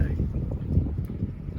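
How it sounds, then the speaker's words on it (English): Outdoor wind at a coastal fort buffets the microphone, a low steady rumble with gusty swells running the whole time. "Now there's a lot of wind"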